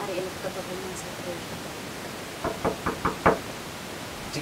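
Knocking on a house door, five quick distinct raps in a row, moderately close, following a short stretch of quiet speech over a faint hiss of background noise.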